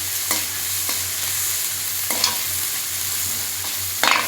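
Onion frying with ginger garlic paste in a pan for chilli parotta, a loud steady sizzle with occasional spoon stirs and a clatter at the end, close up and with no one speaking.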